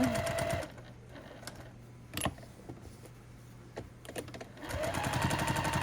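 A sewing machine runs in short whirring bursts while stitching a quilted Thanksgiving placemat made from a panel. Quieter pauses with light clicks and handling separate the bursts, which sit close to the listener with no voice over them.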